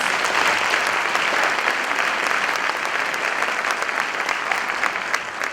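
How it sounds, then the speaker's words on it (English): A concert audience at a county student band performance applauds steadily and loudly, a dense, even wash of clapping that holds throughout with only a slight fade. "Can we give these kids another round of applause?"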